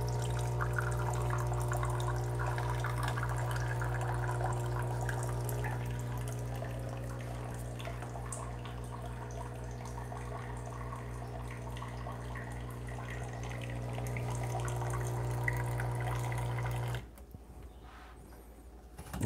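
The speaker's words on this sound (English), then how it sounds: "Got the hot water going." A Breville Barista Pro or Express espresso machine hums steadily while hot water streams continuously into a cup, stopping abruptly near the end and leaving quiet.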